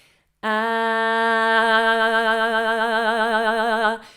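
A single sustained sung note held for about three and a half seconds, starting steady and then wavering with a growing vibrato before cutting off.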